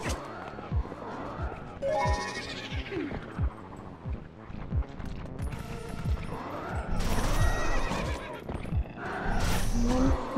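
Horse whinnying in the video game Twilight Princess, a couple of rising and falling neighs among busy game sound effects, fairly close and moderately loud with no talk over them.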